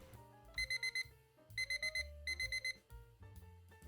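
An alarm clock going off at 5 a.m., sounding in repeated bursts of shrill electronic beeping, three clusters of rapid beeps over a low background tone, loud and close.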